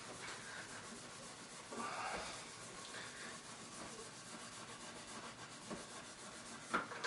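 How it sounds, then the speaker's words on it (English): Steady close rubbing and scrubbing of lemon oil over the grimy fretboard of a Stagg Stratocaster electric guitar, a continuous soft friction with a few brief louder scrapes near the end. "I've got some lemon oil to also take off some of this and also condition at the same time"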